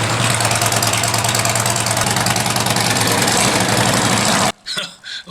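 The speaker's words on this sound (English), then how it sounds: "you'd have to be a bit weird if you didn't like the sound of a Harley idling" A Harley-Davidson Road King motorcycle idles up close with a loud, steady, lumpy thumping beat for several seconds before it cuts out abruptly, leaving brief quiet noises.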